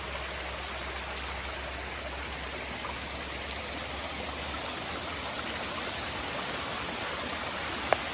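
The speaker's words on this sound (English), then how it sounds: "Got a nice waterfall." Steady, broadband rush of a waterfall on the Appalachian Trail, heard from near the top of the falls, a constant moderately faint roar with no talking.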